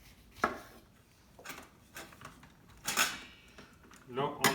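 A knife cuts lemons in half for homemade limoncello, giving a handful of sharp, close cuts and knocks against the board, spaced apart over quiet kitchen background.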